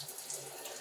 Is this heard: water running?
yes